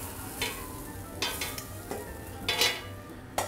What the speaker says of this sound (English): Just mix it around, get all those juices going.